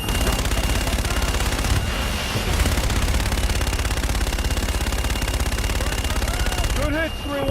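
Aircraft gun run in Call of Duty Infinite Warfare, a loud unbroken roar of rapid machine-gun fire lasting several seconds, with a brief voice cutting in at the very end.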